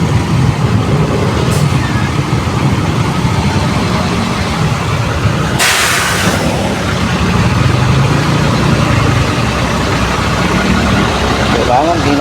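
Rush-hour traffic on C5 road in Pasig, idling car and truck engines rumbling steadily close by, with one brief louder whoosh of a passing vehicle midway.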